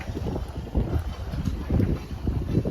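Wind gusts buffet the microphone outdoors with a steady, close low rumble that swells and eases in uneven pulses; no voices are heard.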